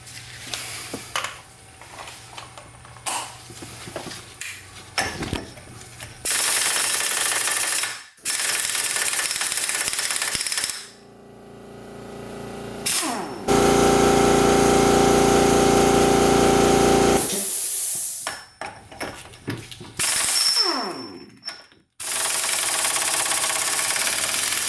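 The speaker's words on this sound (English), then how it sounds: "we're going to try to remove it with the impact wrench" A pneumatic impact wrench hammers at a rear wheel bearing bolt on a BMW E46, firing in several loud rattling bursts of a few seconds each, with short pauses between them.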